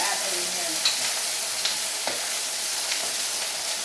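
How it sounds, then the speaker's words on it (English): White onions and vegetables sautéing in a pan make a steady, close sizzle with soft stirring scrapes and a few small pops, and no talking. "So I'm going to saute this until it cooks down a little bit"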